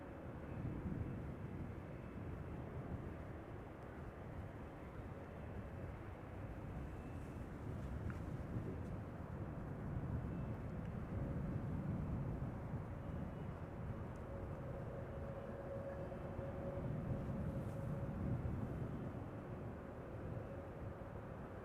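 A KLM airliner bound for Lima, Peru, taxiing toward the Kaagbaan runway at Amsterdam Schiphol on a December morning, a steady low engine rumble with wind, continuous and moderately distant, no voices.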